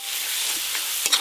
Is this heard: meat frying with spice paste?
yes